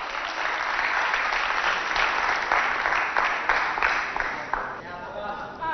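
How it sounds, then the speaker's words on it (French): An audience applauds a contestant at a televised competition between SOS Village Tchad and Centre Dakouna Espoir, with dense, sustained clapping close by that fades near the end as a voice cuts in. "Applaudissez pour Brahim."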